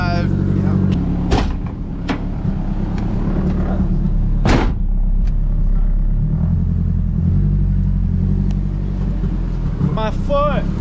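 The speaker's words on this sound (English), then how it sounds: "Take it for a test drive." Low rumbling engine of a Nissan S13 project car pulling away on a test drive, a steady loud drone with a rising rev near the end, punctuated by sharp clunks and people talking over it.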